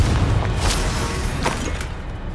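A Confringo spell explosion in Hogwarts Legacy produces a loud, dense, rumbling blast with crackling bursts that fills the whole moment without letting up.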